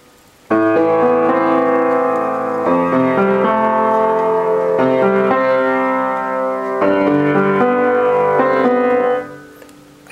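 Sustained, harmonically rich piano chords from a song change every couple of seconds in a slow phrase, played alone and clearly, then fade out.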